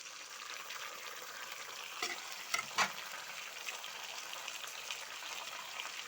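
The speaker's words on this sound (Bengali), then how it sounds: "ভালো করে কষিয়ে নিচ্ছি।" Onion-garlic paste fried with turmeric, cumin powder, meat masala and tomato sauce, a soft continuous sizzle with a few spoon scrapes and clinks around the middle, fairly quiet and alone.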